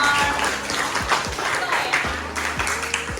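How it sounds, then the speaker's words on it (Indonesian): A classroom of students claps for a few seconds, with lively, uneven applause close by and a voice talking under the clapping. "So give applause for"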